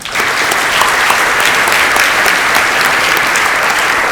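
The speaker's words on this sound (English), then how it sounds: "big collective applause." Loud, dense applause from a large audience at an anniversary global awards function, sustained and even across the whole stretch with no voices on top.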